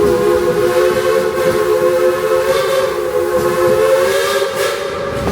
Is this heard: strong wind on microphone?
no